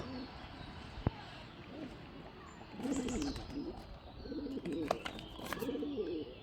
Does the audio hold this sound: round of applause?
no